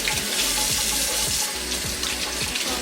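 Warm tap water runs steadily into a sink for washing a Miltassia orchid, a continuous close splashing rush with no talking.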